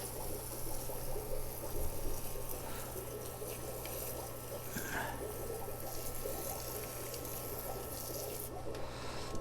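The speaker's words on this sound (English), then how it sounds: "Now we'll spray it real good. Washing the soil real good into the roots." Steady spraying water hisses onto potting soil around a plant's roots, a continuous close wash of liquid with no pauses and no voices.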